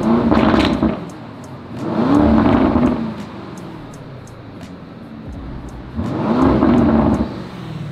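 Lamborghini Urus SUV engine revving in surges while driving, three loud swells of exhaust roar separated by a steadier lower cabin drone, heard close from inside.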